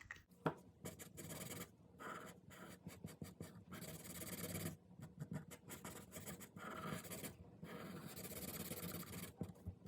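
A Sharpie marker scratches and rubs steadily across paper while the black areas of a drawing of Winston Churchill are colored in, close and continuous with brief pauses between strokes, no talking.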